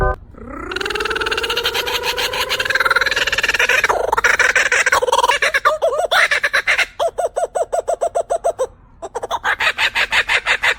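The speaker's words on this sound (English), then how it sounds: "Kookaburra." A kookaburra calls loud and close, starting with rising cackles and breaking into a fast run of rhythmic, laughing hoots that stop briefly and then carry on.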